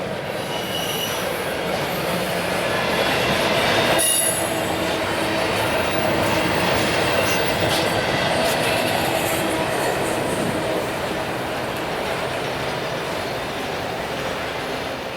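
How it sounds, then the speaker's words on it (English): A Canadian National grain train pulls eastward on the north track near Wabamun, Alberta, its heavy railcars rolling past close by with a steady loud rumble and high wheel squeal throughout, no voices. "the grain train on the north track can now begin to pull eastward"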